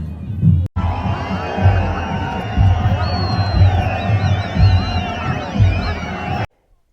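A large crowd gathers as a village deity procession arrives in Rohru, Himachal Pradesh, making a dense, continuous roar of voices over a rhythmic low thumping, close and loud throughout before cutting off abruptly.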